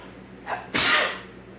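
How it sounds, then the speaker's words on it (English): A single sharp sneeze, with a short intake of breath just before the loud, explosive burst, close by. "hold on, I gotta sneeze"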